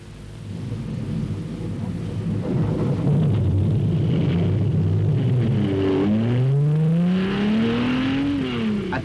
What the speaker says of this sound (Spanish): En el Autódromo de Modena se dedica a probar su coche